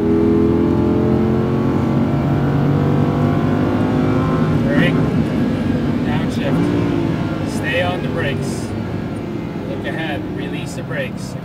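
Lamborghini Huracan accelerating hard on the Speed Vegas race track, a loud, continuous engine roar with rising and falling pitch through gear changes, close up and heard from inside, with a person talking over it.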